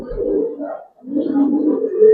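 A Giribaz pigeon cooing close by, two soft, low rolling coos separated by a brief pause, clear and alone.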